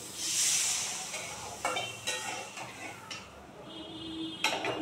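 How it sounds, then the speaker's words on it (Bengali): Water poured into a pan of frying bitter gourd and potato gives a loud hissing burst that fades into softer steam and sizzle, with a few light clinks of utensils later. "ভাজা হয়ে গেছে, এখন একটু জল দিয়ে দেবো।"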